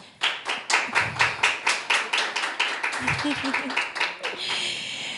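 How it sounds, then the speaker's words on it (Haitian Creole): Audience at a conference on women and political parties clapping to welcome panelists, a few loud spaced claps building into steady rhythmic applause that thins toward the end, with a voice briefly heard partway through. "Aidez-moi à accueillir sous vos applaudissements nos panélistes pour cet après-midi"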